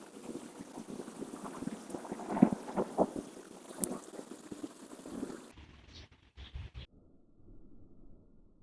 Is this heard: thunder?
yes